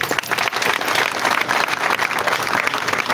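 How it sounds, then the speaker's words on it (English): Crowd applause at a live political rally, a dense, steady wash of many hands clapping throughout, loud and continuous with no clear breaks. "Give my brother here another big applause."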